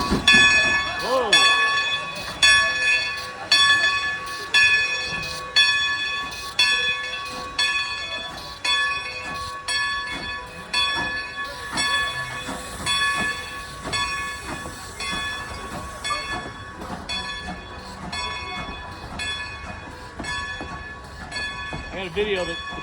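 A Strasburg Rail Road train pulls away, with loud, steady rhythmic clacking of wheels over rail joints and a ringing bell tone throughout, fading slightly as it moves off.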